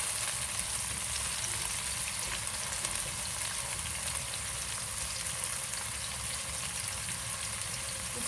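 Onions fry in a pan with a steady, dense sizzle that stays even and close throughout, with no voices.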